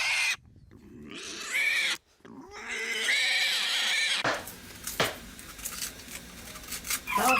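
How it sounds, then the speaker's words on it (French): A pig squeals before slaughter at a family home in Cuba: loud, piercing, high-pitched cries in long bursts with a brief gap, followed by noisier rustling and thumps. "Ce soir, on va tuer le cochon."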